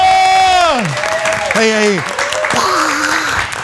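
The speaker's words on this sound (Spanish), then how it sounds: "¡Aplausos para Rigio!" Studio audience applauding for guest Rigeo on a talk show, a broad steady wash of clapping and crowd noise, with loud shouted voices and gliding whoops riding over it.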